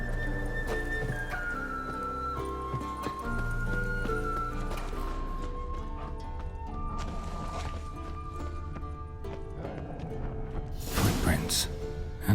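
Horse hooves clip-clop in The Witcher 3 video game, a steady rhythmic beat of steps under spoken dialogue and musical score, with a brief louder burst near the end.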